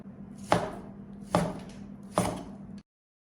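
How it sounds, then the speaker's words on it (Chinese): A knife chops pork into thick chunks on a cutting board, three sharp, evenly spaced thuds that are close and clear with brief decays and no talk. "我们下面来开始切肉，肉呢一定要给它切成厚厚的块"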